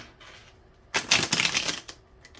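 Tarot cards shuffled by hand in a quiet room, a dense burst of riffling and flicking that lasts about a second, with faint handling noises before and after.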